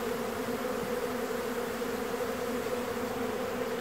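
A honeybee swarm arriving at a hive fills the air with a dense, continuous buzzing hum, steady and close, with no voices.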